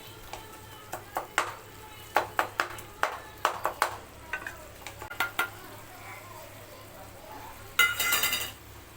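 A spatula clanks and scrapes against a pan in quick, irregular strokes while food stir-fries, and a short burst of loud sizzling rises near the end.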